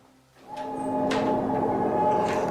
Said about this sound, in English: That door just opened!